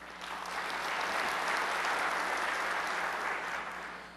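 An audience at a Windows Sysinternals technical talk answers a show-of-hands question with applause, a dense burst of clapping that swells, holds for a few seconds and fades away.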